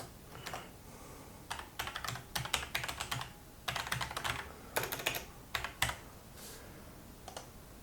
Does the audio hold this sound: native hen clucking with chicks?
no